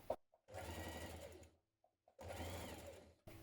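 A sewing machine stitches the side seams of a blouse with a 1 cm seam, running in two bursts of steady mechanical whirring separated by a short pause, close and moderately quiet.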